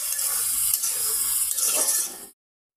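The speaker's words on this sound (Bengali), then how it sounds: "আলুটা আগে একটু কষিয়ে নেব" Potatoes sautéing in a hot pan give a steady, close sizzle with faint stirring scrapes, running continuously for about two seconds before cutting off abruptly into silence.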